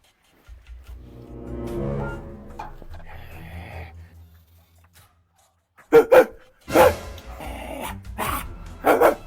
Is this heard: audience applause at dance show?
no